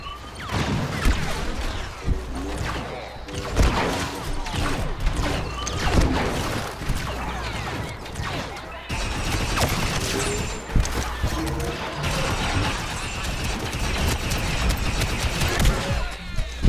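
Blaster fire in Star Wars Battlefront 2 crackles in a long, dense barrage of rapid shots and impacts, near and loud and nearly continuous, with occasional crashes and a voice faintly underneath.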